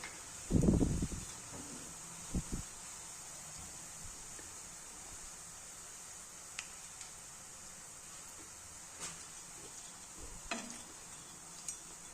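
Spiced pakoras deep-frying in hot oil give a faint, steady hiss with scattered small crackles and pops, after one louder clatter near the start.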